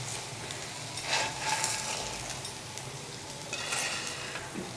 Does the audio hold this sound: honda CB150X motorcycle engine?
no